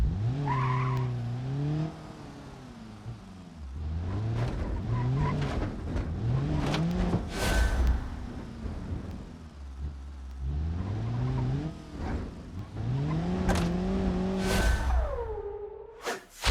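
Bus engine revving and changing pitch in low gear while driving off-road in BeamNG, a drift taxi bus build, loud and continuous with tire squeals and whooshes, no talking.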